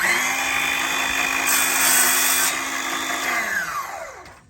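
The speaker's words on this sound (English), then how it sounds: "I'm gonna make my cut, pull my piece away, then raise the blade." A power saw cuts a piece of trim with a loud, steady high whine that holds for several seconds, then winds down and fades as the blade slows.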